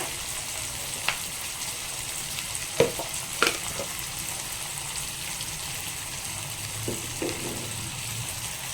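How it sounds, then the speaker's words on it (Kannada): Food frying in oil in a pan while avalakki (flattened rice) is cooked, a steady soft sizzle running throughout with a few brief clinks and stirring taps, no talking. "ಇದು ಚೆನ್ನಾಗಿ ಫ್ರೈ ಆಗುತ್ತೆ ಬೇಗ ಅಂತ"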